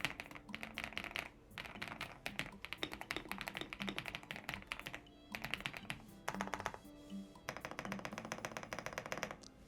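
Typing on an AULA F108 Pro mechanical keyboard with well-stabilized, lubed keys: rapid close-up clacking in bursts, with short pauses between runs of keystrokes and no talking.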